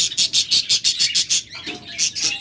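A Japanese pair of caged pet birds chirps in a rapid, even run of bright, close tweets, then breaks into a few looser, scattered calls.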